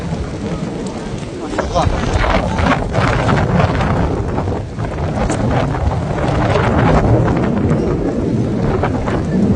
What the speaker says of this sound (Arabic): هواء غزير وأمطار غزيرة ما شاء الله